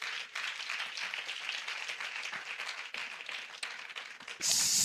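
A church congregation applauds and cheers for the Lord, a steady wash of clapping and voices that swells louder at the end.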